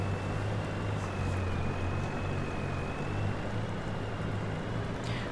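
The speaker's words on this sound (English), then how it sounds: "This isn't a super powerful lorry, so it's going to struggle a bit." A low-powered lorry engine labours in Farming Simulator 22, a steady low drone with a faint tonal whine above it, holding at a constant level throughout with no one speaking.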